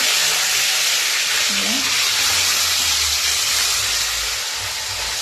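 Cauliflower and fish fry in hot oil, a loud, close, continuous hissing sizzle, with a faint low rumble and a brief voice underneath.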